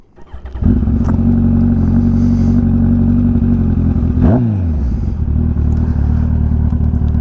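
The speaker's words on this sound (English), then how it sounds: "This is what you'll hear when you crank it up." Kawasaki ZX14R motorcycle with a VooDoo exhaust cranking and firing up, the engine catching within a second into a loud, close, deep rumbling idle with a brief blip of revs midway, no voices.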